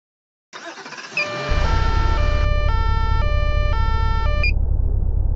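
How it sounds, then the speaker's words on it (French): A fire rescue VSAV ambulance siren, a loud close two-tone wail starting abruptly and repeating steadily. "écoutez-moi cette sirène de Wish"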